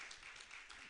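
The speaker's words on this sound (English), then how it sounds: "I think he really deserves another round of applause." Audience giving a round of applause to a professor at a summer school event in Rwanda, a brief burst of scattered clapping heard faint and distant.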